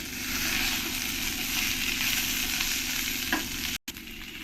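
Fried cauliflower and beans get stirred in a hot pan, a dense steady sizzle with soft scraping from the spoon and a brief break near the end, close by and without voices.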